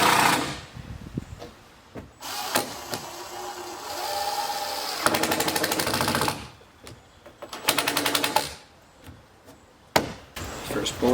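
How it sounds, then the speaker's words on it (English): Screws are driven into cedar deck boards with a power driver in several loud, buzzing bursts, separated by short pauses and handling clatter. "Put 4 screws in here, which will be more than enough to keep it safe until I get all the boards in place."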